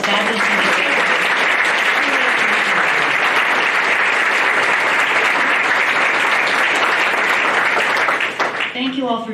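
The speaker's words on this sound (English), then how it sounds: "Let's give another round of applause for all these fabulous individuals" An audience at a volunteer awards evening applauds the award recipients, loud sustained clapping from a full room that tapers off at the end as a voice begins to speak.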